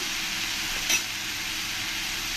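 Pointed gourd fries in a pan with a constant close sizzle, broken by one brief scrape of stirring, with no talk.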